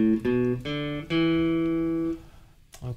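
A guitar plays a short sequence of single notes on strings 5 and 4, three quick plucks followed by two longer ringing notes that fade out, close and unaccompanied.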